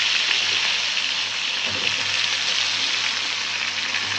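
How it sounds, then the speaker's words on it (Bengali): Pointed gourd frying in hot oil, a steady, dense sizzle that holds evenly close by for the whole stretch with no talk over it. "এই দেখেন এই তেলের মধ্যে পটলটা ভাজিয়ে নেই।"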